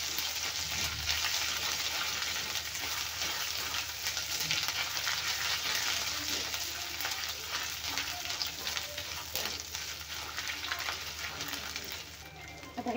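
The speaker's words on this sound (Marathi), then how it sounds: "ते पण भाजून घेऊया तेलामध्ये." Coriander powder roasting in hot oil for a pumpkin chutney, a steady close sizzle and crackle running the whole time with occasional scrapes of stirring and no voices.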